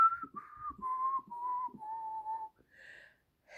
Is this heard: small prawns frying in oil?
no